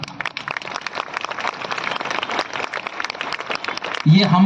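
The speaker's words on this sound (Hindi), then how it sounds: "तालियां" Applause and crowd noise at an outdoor World Tribal Day celebration on a court ground in Khunti, steady dense clapping mixed with voices throughout, swelling louder at the very end.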